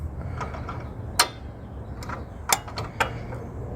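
A wrench turns a bolt on an MS6 downpipe, giving a few close metallic ratcheting clicks and clanks at irregular intervals over low background rumble.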